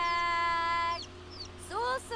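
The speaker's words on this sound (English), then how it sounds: "We've got a rooster. Do we have a hen as well?" Simulated chickens in The Sims 4 game, a rooster among them, giving a sustained tonal call that breaks off, then a short rising cluck near the end, clear and close over soft game background.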